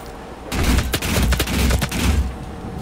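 Rapid bursts of gunfire from DOOM multiplayer on Xbox One, dense overlapping shots with sharp cracks over a booming low end, loud and continuous for a couple of seconds after a quiet start.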